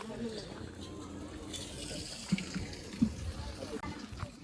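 Water runs from a tap into a container in a steady splashing flow, with people talking close by.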